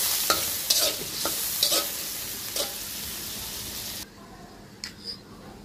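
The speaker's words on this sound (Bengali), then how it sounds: "লাস্টে খাঁচা গলা এগুলো ভেজে নিচ্ছি।" Chicken neck and carcass pieces fry in a pan with a steady hiss, broken by a few stirring scrapes. The sizzle drops noticeably quieter toward the end.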